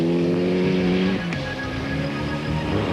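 Group N rally car at the 1996 Mount Gambier Rally, engine roaring loud and close with a strong revving tone that drops sharply as the driver shifts, then pulls hard again, a brief tire scrub in the middle.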